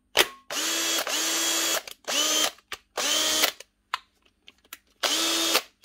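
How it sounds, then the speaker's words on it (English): A brushed Makita DHP458 heavy-duty cordless drill runs in four loud bursts of steady motor whine with short gaps between them, and faint clicks and handling knocks fall in the pauses. "This is the older heavy duty Makita drill."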